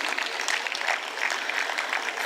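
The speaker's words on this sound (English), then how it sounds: "A little more louder claps from the backstage." Audience applause for a guest being welcomed onto the stage at a literature festival event, a steady wash of many hands clapping throughout at moderate loudness, with no talk over it.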